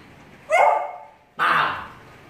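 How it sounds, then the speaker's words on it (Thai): A dog barks twice on command, two loud, close barks about a second apart, each trailing off, with no talking over them. "เห่าสิอีกที"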